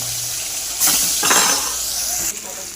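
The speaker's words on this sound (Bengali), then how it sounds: "তো কাতল মাছগুলোকে ভালো করে ভেজে নেব" Pieces of catla fish fry in hot oil with a close, crackling sizzle, broken by a couple of louder scraping bursts as a utensil stirs and turns them in the pan.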